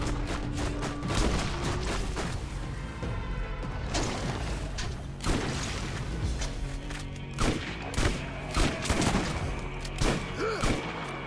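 Gunfire in the first Borderlands video game gives repeated sharp shots and bursts that crack over a constant, dense game soundscape, with some heavier impacts toward the end.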